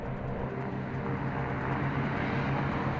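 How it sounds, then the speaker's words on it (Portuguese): A B-29 bomber taking off, with a steady loud roar of piston engines and propellers holding throughout a short stretch, no talk. "os B-29s decolam com bombas falsas chamadas de abóboras"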